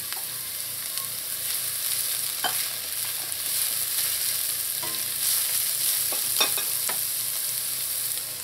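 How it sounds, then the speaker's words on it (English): Hot pepper and scallions sauté in a hot pan, giving off a steady, even sizzle with occasional louder pops and spits, with no voices. "Just going to let this saute for about 20 seconds."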